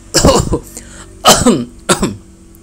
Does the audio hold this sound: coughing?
yes